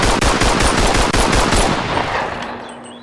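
Rapid automatic gunfire in a Wolverine and Deadpool video game, a loud, fast string of evenly spaced shots for about two seconds, then a ringing tail fading out.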